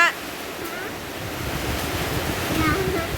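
Strong wind and rain roar steadily against the microphone in a dense, rushing wash of noise that rises slightly toward the end.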